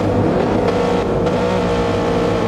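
Several race cars roar and rev continuously in a GT racing video game during hot-lap qualifying, a loud, dense engine drone with no talking.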